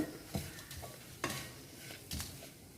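Ridge gourd peels sautéing in a pan for chutney, a steady sizzle broken by periodic scraping stirs, fairly close with no talking.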